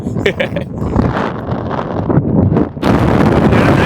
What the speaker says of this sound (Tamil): காற்று பயங்கரமாக அடிக்கும், ஃபோனுகள்லாம் கீழே விழுந்துடும்.